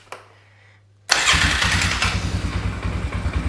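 A 2001 Polaris Scrambler 500 2x4 ATV has a newly installed starter and a cold engine. After a brief quiet stretch, the starter engages and the engine catches at once, settling into a loud, close, pulsing idle.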